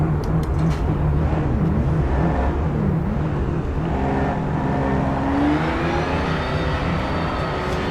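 A Porsche race car in the Project Motor Racing game, its engine droning and rising in pitch as it accelerates through the gears, loud and steady without talk.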